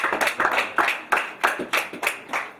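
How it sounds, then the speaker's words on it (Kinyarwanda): Wedding guests clapping their hands together in a loose, uneven rhythm, several sharp bursts close by, with no talk over them. "mukoma amashyi"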